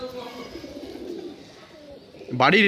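Pigeons at a loft, a low throaty cooing heard faintly under a person talking nearby, with a louder voice breaking in at the end.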